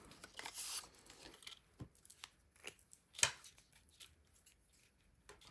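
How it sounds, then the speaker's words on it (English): Edges of a paper card for a 3D Sweet Bugs project are trimmed, giving quiet, scattered snips and rustles, with one sharp louder cut near the middle. "and then I'm going to trim off the edges"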